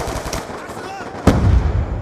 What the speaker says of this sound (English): Right now, I'm just shooting.